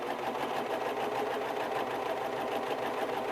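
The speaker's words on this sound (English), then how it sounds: "you're going to serge over the thread" A serger sewing machine runs steadily and close, stitching over thread on T-shirt fabric in a fast, even mechanical whir without pause.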